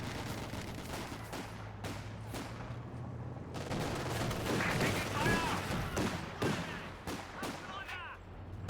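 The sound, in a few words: rifle grenade attack in a video game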